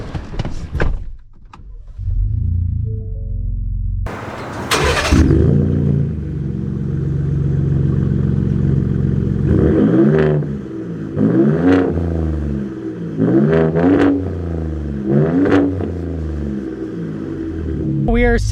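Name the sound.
Ford Raptor Gen 2 truck with Fox Race Series shocks driving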